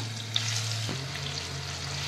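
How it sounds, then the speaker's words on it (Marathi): A steady, close sizzle of finely chopped onion sautéing in a tempering in a pan, constant and even, with a brief clink near the start. "आता आपण कांदा ह्याच्यात परतून घेऊया।"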